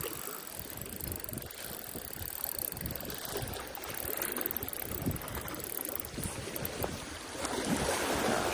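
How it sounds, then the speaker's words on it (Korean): A fishing reel's drag buzzes in a dense, continuous ratchet as line is pulled out while squid fishing, close up, over wind and water. "오랜만에 또 트랙 소리 듣네요"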